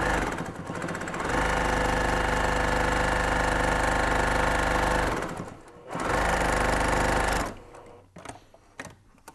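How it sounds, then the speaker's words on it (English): A sewing machine stitches a fabric sleeve, wrong sides together, for a tablet prop-up pillow, running in two steady, loud bursts with a brief pause between, then stopping into quiet handling clicks. "I am definitely sewing it wrong sides together on purpose."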